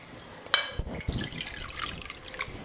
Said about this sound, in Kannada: ನಾ 1 ಕಪ್ ಅಕ್ಕಿಗೆ 3 ಕಪ್ ನೀರು ಹಾಕೋತೀನಿ ನೋಡ್ರಿ